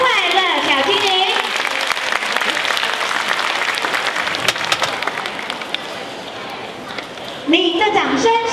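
An audience applauds to welcome a small children's class performance at a kindergarten show; clapping is steady and close, with some crowd noise mixed in, and a brief burst of music or voices toward the end.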